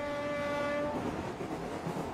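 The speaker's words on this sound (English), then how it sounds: "The Grand Trunk Express nears its destination." Grand Trunk Express on an Indian main line nearing Madras: a sustained horn blast over the low rumble and rattle of the moving train, after which the horn cuts out and the rolling rumble continues alone.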